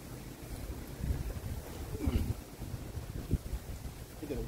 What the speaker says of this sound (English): Look at the wind blowing.